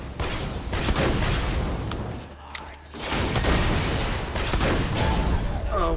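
Gunfire in the video game Borderlands 2 during a co-op firefight, a dense, loud barrage of shots and booms that continues almost throughout, dipping briefly midway before resuming at full intensity.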